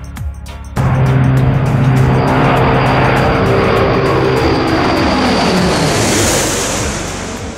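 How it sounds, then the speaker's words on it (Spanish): A loud, continuous roar of Tupolev Tu-95 propeller engines after a brief quieter start, steady and droning throughout with a slight fade near the end. "Las hélices producen tal ruido por la tremenda velocidad a la que giran."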